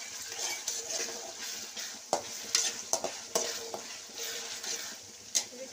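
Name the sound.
ginger garlic paste and tomato frying, stirred in a pan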